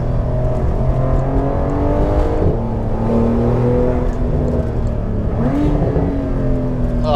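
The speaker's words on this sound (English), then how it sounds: "I love the crackle on the overrun" A Porsche 911 Targa 4S climbs a mountain road, engine droning loud and steady inside the cabin with rising and falling revs as the driver lifts off, though distinct exhaust crackles are hard to pick out.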